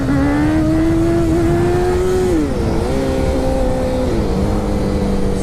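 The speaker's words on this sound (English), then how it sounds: "So there's a power wheelie" A motorcycle engine revs hard and holds a loud, steady drone whose pitch climbs, then dips twice as the throttle is chopped and cracked open again to lift the front wheel into a power wheelie. No voices are heard.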